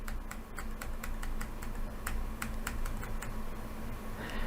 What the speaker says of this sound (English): I can use my arrow keys on my keyboard